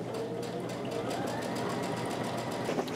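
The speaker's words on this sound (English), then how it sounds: "I'm going to sew to this edge and back tack." A sewing machine stitching fabric with a back tack, a steady continuous mechanical whir that holds even throughout at moderate volume with no pauses.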